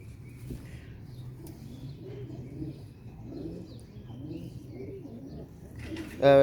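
Sialkoti pigeons coo softly and continuously in low, rolling phrases at close range, ending with a sudden louder burst.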